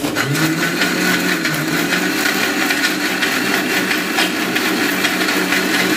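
A kitchen blender whirs steadily and loudly through a chilled Ramadan iftar juice, its motor drone constant and close with a dense, grinding texture from start to finish.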